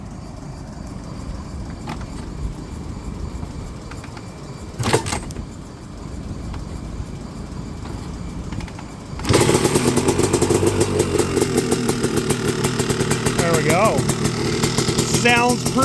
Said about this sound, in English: So let's give this thing a kick. We'll let it sit here and idle for a little bit